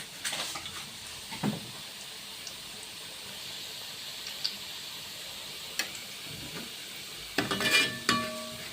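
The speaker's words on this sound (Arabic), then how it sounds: "هفضل اقلب زيت لحد ما ياخد اللون اللي هو الذهبي." Oil stirred in a frying pan while cooking shakshuka with a spoonful of sugar, a quiet steady sizzle broken by occasional spoon scrapes and taps against the pan, louder clatter toward the end.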